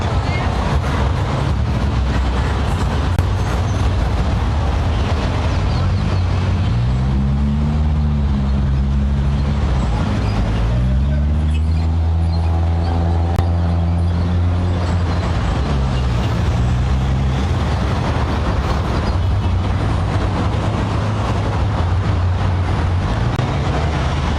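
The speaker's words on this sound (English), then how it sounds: "smooth flow of traffic." Morning road traffic at the Republic Bank roundabout in Grenada, a steady broadband wash of passing vehicles with engines audibly rising and falling in pitch as they go by, close and fairly loud, roughened by wind noise.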